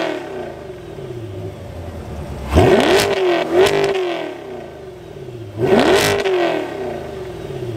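A 2020 Corvette C8 in track mode revs hard three times from a low idle rumble, each sharp rise climbing then falling back, loud and close with a throaty, crackling exhaust.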